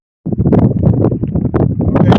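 Steady, loud wind buffeting the microphone while climbing La Mota Mountain in Big Bend Ranch State Park, a continuous rumbling roar with gusty swells and no voices.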